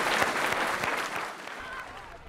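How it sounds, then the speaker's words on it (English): Audience applause after a talk about the seaside today and in the past, a dense wash of clapping that starts full and slowly thins out, with some voices mixed in. "Let's give them another big round of applause."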